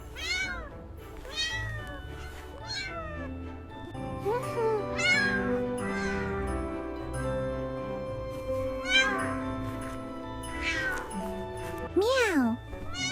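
Cartoon cat voices meow repeatedly in a cozy winter Christmas scene, bright rising-and-falling cries over a steady musical backing, with character chatter around them.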